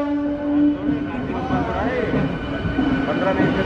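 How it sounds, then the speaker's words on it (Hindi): A train arriving at Dabhoi junction station, in India, makes a steady rumble with a sustained tonal whine and a brief squeal. Busy voices and crowd noise from the platform run underneath. "15 मिनट में तो ट्रेन आ चुकी इधर।"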